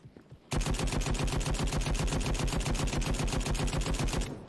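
Sustained rapid automatic gunfire from the browser shooter Krunker.io, a loud unbroken stream of evenly spaced shots lasting about four seconds after a brief quiet start.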